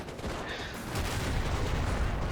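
An artillery barrage in Company of Heroes, a World War II strategy game, heard as dense, continuous rumbling explosions and gunfire that keep a steady roar throughout and grow slightly stronger midway.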